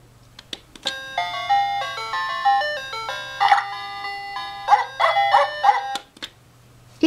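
A SilverLit toy dog plays a bright electronic melody when its nose is pressed: a stepped, beeping tune of clear tones with a few clicks, heard close and alone over a faint steady hum.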